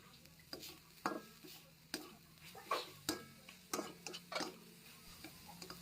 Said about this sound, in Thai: ใส่เครื่องแกงค่ะ ผัดให้เข้ากันนะคะ